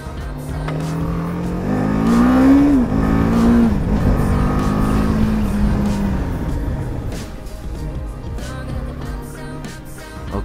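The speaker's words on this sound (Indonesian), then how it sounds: "kali ini kita bakal ngetes BMW 310 GS. Ini varian adventure-nya dari yang 310R sebelumnya." BMW G 310 GS adventure motorcycle on a test ride, its single-cylinder engine revving up and down loudly and close, rising through gears then easing off, with no talk.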